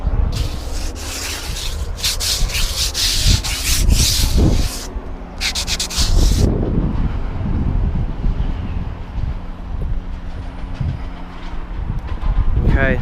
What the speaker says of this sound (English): You can really sand that down there.